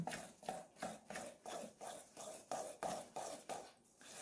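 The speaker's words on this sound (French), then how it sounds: "on commence à mélanger à la cuillère" A spoon working flour and egg into dough in a bowl, giving a steady rhythmic rubbing scrape about twice per second, close and soft, with no talk.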